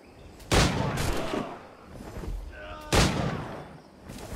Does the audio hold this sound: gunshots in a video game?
yes